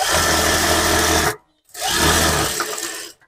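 A sewing machine stitches a sleeveless blouse in two close, loud runs of steady whirring, separated by a brief pause, with no talking.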